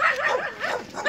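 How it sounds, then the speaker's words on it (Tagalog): A farm dog yipping and whining in quick, high, wavering bursts, fairly close, over a short moment. "alagang aso."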